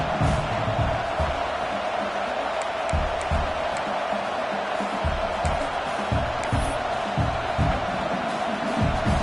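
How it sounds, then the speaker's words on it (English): A college football stadium crowd at Nebraska versus UCLA roars continuously as the field goal unit comes on, a dense, loud wall of cheering and shouting with scattered whoops and thumps, and no distinct talk on top. "This crowd trying to do its part to get inside the kicker's head."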